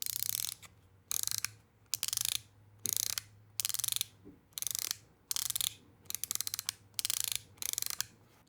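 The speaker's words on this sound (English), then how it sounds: "A nice, really crisp, mechanical, kind of ratchety sound to it." A Wasteland Mech Wallet fidget mechanism ratchets repeatedly, its spring-loaded balls clicking along a track in crisp bursts of rapid clicks, each separated by brief pauses, close and clear.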